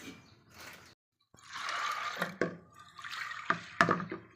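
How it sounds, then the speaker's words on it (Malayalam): Water pours into a cooking pot of cowpeas seasoned with rock salt, a soft splashing rush in two close bursts separated by a short pause, with small knocks against the pot. "ഇനി കുറച്ച് വെള്ളം ഒഴിച്ചു കൊടുക്കുക"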